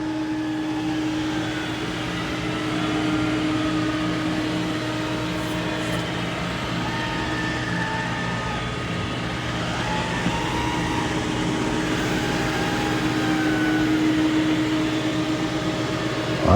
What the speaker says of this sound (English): it's going to start mopping the muddy paw prints